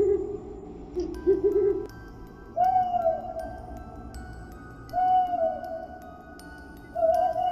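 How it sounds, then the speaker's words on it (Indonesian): An owl hoots three times at a steady pace with pauses between, each call a clear wavering note over a quiet nighttime background. "Suara burung hantu itu berbunyi teratur, diselingi jeda, dan kemudian berbunyi lagi"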